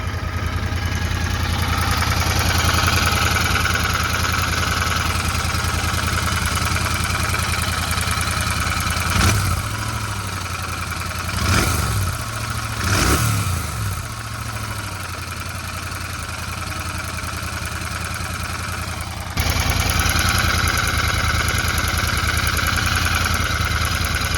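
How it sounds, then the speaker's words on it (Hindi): Royal Enfield Interceptor 650 motorcycle engine idling with a steady low thumping rhythm and audible tappet noise, broken by three quick throttle blips in the middle before settling back to idle. "अब मैं सुनाता हूँ आपको इंजन की साउंड।"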